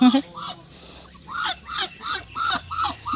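A duck quacks several times in quick succession near the microphone at a home farm, with honking calls repeating every half second or so and no talk.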